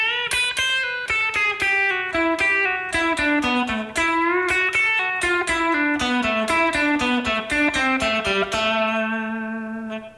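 Electric guitar plays a fast country-style lick packed with quick pull-offs, a rapid cascade of bright notes shifting between positions before ringing out on a sustained A, close and clean with no talking.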